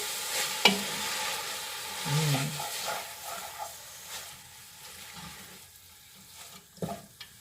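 Brined sauerkraut cabbage is stirred into a sizzling soup pot, giving a soft hiss with scraping and clinks of the spoon at close range.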